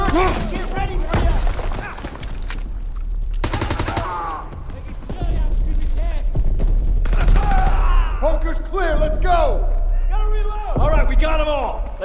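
Call of Duty WWII D-Day battle gunfire, with sustained machine-gun bursts and rifle shots close and loud, while voices shout over the din throughout.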